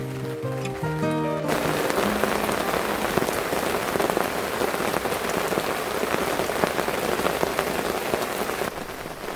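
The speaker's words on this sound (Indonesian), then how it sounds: "Ternyata sore ini mulai turun hujan ya." Rain falls steadily at a forest campsite, a dense, close patter of drops across surfaces lasting the whole stretch, with no talk.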